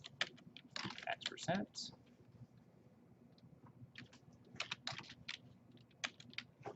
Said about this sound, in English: I can come down here and start typing in my employee information